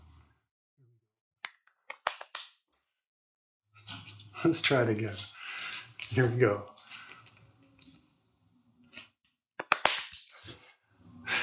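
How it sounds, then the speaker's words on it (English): Sharp single hand claps, a few quick ones early, then more near the end, come from someone balancing in an Ashtanga yoga pose, with a voice speaking in between. "counting how many times I can clap."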